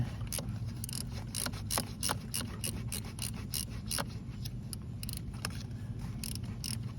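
A ratchet wrench clicks steadily while backing out a long bolt on a BMW F30's N55 engine, a rapid close run of sharp ratcheting ticks with no talking.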